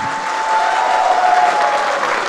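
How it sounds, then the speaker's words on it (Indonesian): Steady, dense clapping from a large audience at an Indonesian regent candidate debate in Malinau, sustained throughout at a consistent loud level with no talking over it. "Kita berikan tepuk tangan yang meriah."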